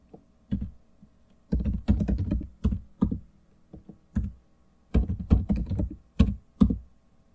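Computer keyboard typing during a Windows 11 setup, entering security answers. Quick bursts of close, crisp key clicks come in several clusters separated by short pauses, with no talk.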